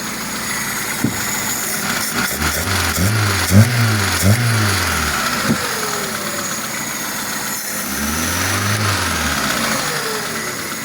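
A UAZ 2.4 engine fitted with a Solex carburetor and gas fittings runs at idle, a steady close rumble with a couple of brief revs rising and falling, plus occasional clicks.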